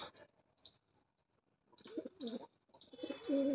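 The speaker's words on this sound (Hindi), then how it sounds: "ये काफ़ी तेज़ कबूतर है" A pigeon coos softly nearby in low, throaty phrases, with quiet pauses and faint background chirps between calls.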